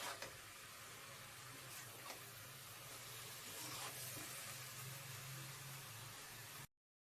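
Cabbage with spices sizzles and hisses in a hot pan while being stirred, a steady broadband frying noise with faint scraping, close and moderately quiet, ending abruptly.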